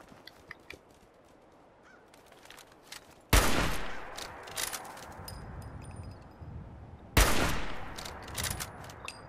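Two loud, sharp sniper rifle shots in Fallout 4, spaced about four seconds apart, each leaving a decaying echo tail over a quiet background.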